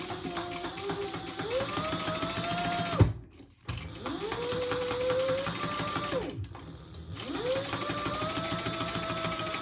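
A sewing machine top stitches a handbag in three sustained runs, its motor whirring up and holding speed, separated by brief pauses with a sharp click at one stop.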